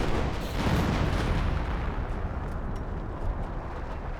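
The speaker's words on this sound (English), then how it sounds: "More artillery there." Artillery barrage in the real-time strategy game Company of Heroes 1, a sustained loud rumble of booming explosions with bursts piling on each other, heaviest in the first second and a half.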